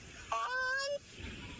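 A single loud, honking crowned crane call rings out for under a second, a nasal trumpeting note heard close up against faint background noise.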